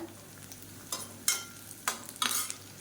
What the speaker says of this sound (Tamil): இப்போ இதில் ஒரு கைப்பிடி நீளமாக நறுக்கின பெரிய வெங்காயம் சேர்த்துக்கலாம் வெங்காயம் நல்லா பொன்னிறமாக வதங்கட்டும்